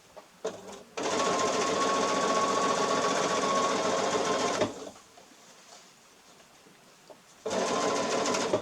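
A sewing machine stitches a seam on shell fabric for a shopping bag. It runs in two steady bursts, a long one of nearly four seconds, a quiet pause, then a second burst starting at the end.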